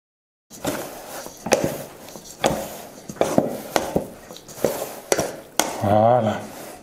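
Sourdough bread dough being mixed by hand in a bowl, with repeated soft slaps and squelches plus occasional knocks against the bowl, close up and steady, ending in a brief scraping sound.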